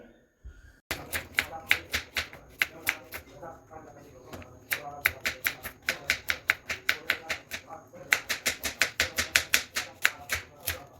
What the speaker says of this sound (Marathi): आता हे बारीक चॉप करून घ्यायचे